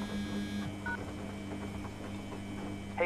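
Telephone dialing tones from a cell phone call in the pizzeria horror game At Tony's, a few short electronic beeps over a steady low hum, with a brief louder chirp at the very end.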